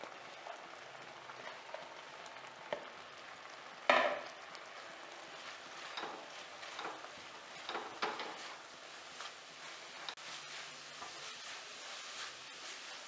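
A thick coconut and jaggery mixture is stirred in a pan for a sweet flattened-rice dish, giving soft scraping and faint sizzling with a sharper clatter near the start, steady and quiet throughout.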